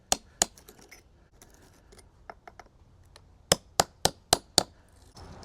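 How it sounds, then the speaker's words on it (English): Crumbling mortar being chipped out between flagstones of a patio, a series of sharp metallic clinks and taps, a few spaced strikes then a quick run of five close, bright hits. "The first part of this job is to remove the broken, crumbling mortar."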